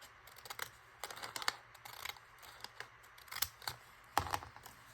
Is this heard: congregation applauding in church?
no